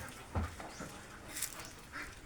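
Ducks quacking at a small duck farm, a few scattered nasal quacks and calls against a low background murmur.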